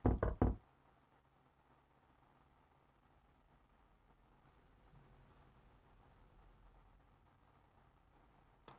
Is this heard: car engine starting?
no